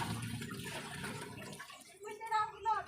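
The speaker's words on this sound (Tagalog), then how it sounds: "Dagdagan lang natin ng tubig." Water poured into the tank of an air cooler under repair, a splashing gush that fades out, followed by people talking nearby.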